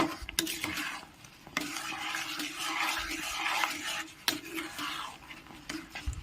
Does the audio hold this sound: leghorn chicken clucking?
no